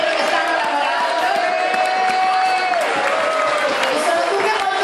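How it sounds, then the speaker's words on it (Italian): A large crowd at an outdoor Sardinian-Venetian food and wine evening applauds and cheers steadily and loudly throughout, with a voice over a microphone carrying above the clapping. "un applauso a San Sisto, al gruppo ricreativo di Acenico, ai ciclisti di Catena, alla Polisportiva"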